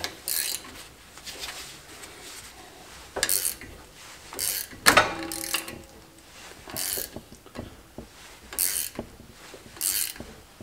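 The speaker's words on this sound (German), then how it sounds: "Dass wir jetzt im Prinzip hier mit der Ratsche einfach nur das Querlenkerlager hier rausdrücken." Ratchet wrench working a press tool to push a control arm bushing out of a BMW E39, with sparse clicking ratchet strokes, creaks and metallic clunks, close and moderately loud against a quiet workshop background.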